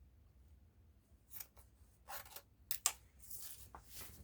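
Scissors slit open fabric for a gown, with irregular bursts of crisp snipping and sliding blade rasps growing louder and closer toward the end, with no talk.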